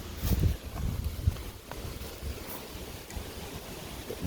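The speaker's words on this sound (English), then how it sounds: "that wind is a little concerning, but at least that's not blowing everywhere anymore" Wind gusts outdoors in the bush by a tent camp, a rough, blustery rush with low rumbling buffets on the microphone, stronger at first and then easing into a steadier hiss.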